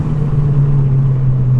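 A 1.6 litre turbocharged Ford Fiesta ST hot hatch accelerating hard, its engine a steady, loud, close droning note that holds for a second and a half with no talk over it.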